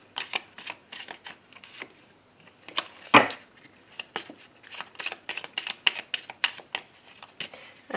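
Tarot cards being shuffled for a general reading: a rapid run of crisp riffling snaps and flutters, close and fairly loud, with one sharp slap partway through.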